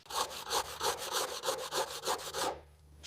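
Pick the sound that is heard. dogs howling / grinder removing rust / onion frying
grinder removing rust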